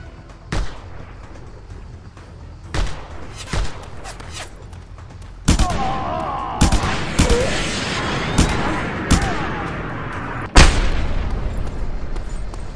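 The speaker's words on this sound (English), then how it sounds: "Who's shooting?" Gunfire in Just Cause 2: sharp, scattered gunshots crack out irregularly, sparse at first and then denser and louder, with one heavy blast near the end over a continuous background rumble.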